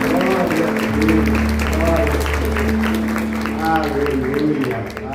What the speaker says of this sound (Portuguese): Você pode aplaudir o Senhor, adorar o Senhor.